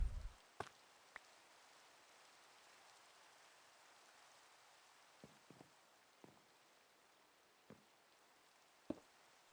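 Steady soft rain hiss from a video game storm at an old inn, faint and continuous throughout, with a few sharp clicks and taps scattered over it.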